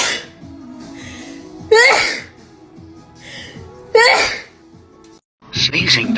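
A woman sneezes twice in sharp, loud bursts a couple of seconds apart, with breathy sounds, murmuring and background noise in between.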